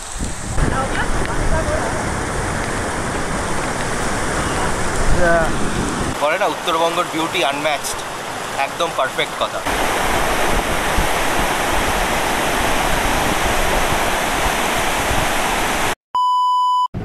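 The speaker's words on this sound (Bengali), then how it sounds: "ওপর থেকে ঝমঝম করে বৃষ্টি পড়ছে, এইখানে হচ্ছে ঝর্ণা আসছে" A jungle waterfall near Siliguri at Dudhia, North Bengal, pours down in rain with a steady, loud rushing roar. A person talks over it, and a brief electronic beep sounds near the end.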